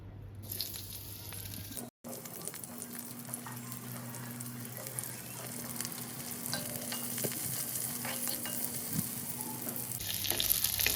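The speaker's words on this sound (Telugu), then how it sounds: "ఇప్పుడు ఒక ఉల్లిగడ్డ తీసుకున్నా అండి ఈ సైజ్ది మీడియం సైజ్ది అది ఒకటి వేసి ఫ్రై చేసుకుందాం" A medium-sized onion fries in a pan, giving a steady close sizzle that builds gradually, with occasional light stirring clinks and a short cut-out early on.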